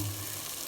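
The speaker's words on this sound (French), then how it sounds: "درت اللحم باش يتقلى" Meat with spices and olive oil sizzles in a pan for couscous, a brief, steady, fairly loud frying hiss.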